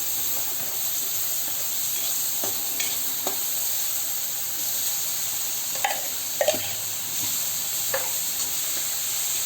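Onions frying in a pan, a continuous bright sizzle with occasional sharp scrapes and clinks of stirring, close and steady with no talking.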